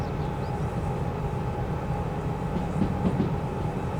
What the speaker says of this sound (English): I'll just put a bit more train brake on there.